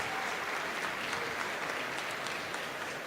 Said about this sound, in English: Got some applause in the audience.